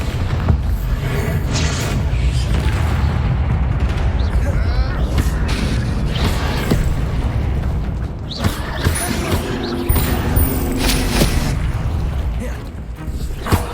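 Spell blasts from Confringo and Bombarda in Hogwarts Legacy on PS5, loud booming bursts repeating densely through the fight, layered with clattering crashes and battle noise with no pause.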